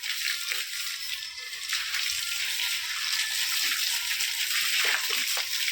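Water sloshes and splashes continuously as a courtyard is washed down, a steady wet hiss with occasional louder splatters up close and no clear speech.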